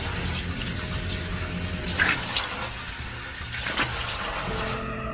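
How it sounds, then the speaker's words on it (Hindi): A bathroom tap runs steadily, water splashing into a basin in a continuous rushing stream, close and fairly loud, with a few brief splashes as if cupped water hits the face. "वापस नल चलाकर मुंह पर पानी के छींटे मारने लगा।"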